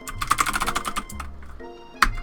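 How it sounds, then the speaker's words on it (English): Computer keyboard keys pressed rapidly one after another, a dense run of close, crisp clicks followed by a brief pause and a single sharper tap near the end. "I'm not sure if you can hear this, but I am trying every single button."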